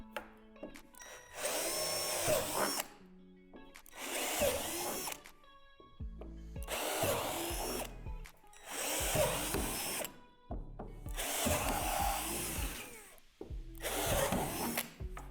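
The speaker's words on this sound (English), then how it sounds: "drill out the 3 divots" A power drill whirs in several separate bursts of a few seconds each, grinding into a plastic swing-set slide with short pauses between them.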